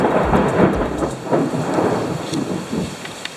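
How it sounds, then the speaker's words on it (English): A Texas thunderstorm: rolling thunder rumbles in several heavy bursts over steady rain, loud and close, with no voices. "I love Texas thunderstorms."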